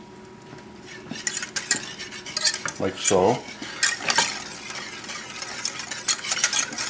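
A spoon stirs ice cubes and a little water in a bowl, clinking and rattling steadily up close, with a brief spoken phrase partway through.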